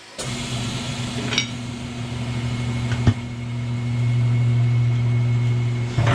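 An Atlas TC 589 tire changer machine runs with a steady motor drone and a mechanical hum that rises in level midway, with a couple of short clunks, heard close and alone.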